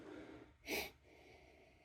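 A single quick sniff through the nose, a short breathy burst against quiet background hiss.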